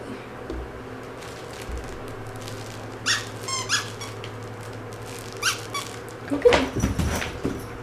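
A dog chews a plush Thanksgiving turkey leg toy, giving a few scattered squeaks near the mic over a low background hum, with brief voices in the room.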